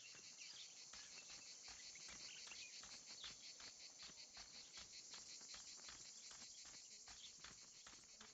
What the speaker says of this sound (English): Estranho esses mosquitos.